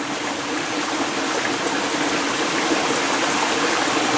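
A tiny mountain stream runs steadily nearby, a close, even broadband rush and gurgle of shallow water with no voices.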